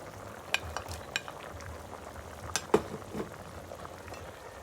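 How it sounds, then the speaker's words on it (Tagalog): Vegetables are stirred into a simmering pot of pork sinigang, a sour Filipino soup, giving a few sharp utensil clinks and scrapes against a steady low bubbling and sizzle, close and moderately quiet. "ihalo natin yung gulay"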